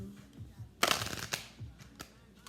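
Tarot cards being shuffled by hand, a few crisp riffling bursts with soft taps and shuffles in between, close and fairly quiet.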